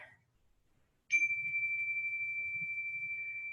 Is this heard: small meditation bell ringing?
yes